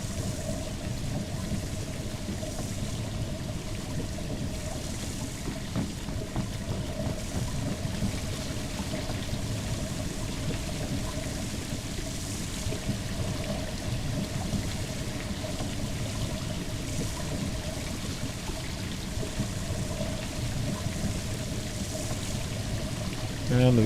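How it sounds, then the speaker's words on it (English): Water from a draining well in the DayZ video game rushes and pours steadily, a dense, continuous churning flow that holds level and close for the whole stretch with no pauses. "that's the noise of the draining well."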